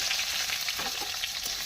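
Chopped onion and green chilli fry in a pan for Yippee pasta, giving a continuous close-up sizzle and crackle with faint stirring and no talking.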